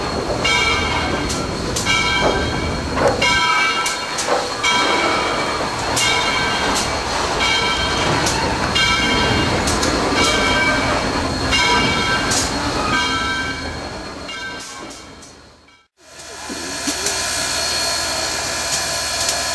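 Excursion train on Tennessee Valley Railroad Museum trackage in East Chattanooga, running the Missionary Ridge Local, rumbling loud and close throughout with repeated bell-like clangs, then cutting briefly to near silence before the rumble resumes.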